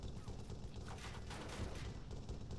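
Dense, continuous gunfire aimed at a vehicle in the military shooter Arma 3, with rapid overlapping shots forming a steady fusillade that fills the whole stretch at an even, moderate level.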